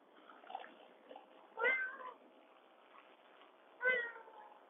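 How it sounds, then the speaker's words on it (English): A cat meows twice near a tidy house with a little garden and pond, the two short meows spaced a couple of seconds apart over a quiet outdoor background. "There's a cat."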